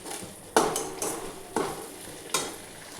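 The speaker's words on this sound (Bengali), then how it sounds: "এটা ভালো করে ভেজে নিই।" Ground cumin, coriander, Kashmiri chili powder and salt fry with vegetables in a pan, heard as a soft sizzle broken by four sharp scraping stirs at a steady pace, close up with no talking.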